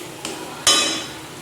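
A pan of ghugni with cooked spice mixture receives a brief light knock at first, then a sharp loud clatter as the ghugni goes in, followed by a fading hiss of cooking.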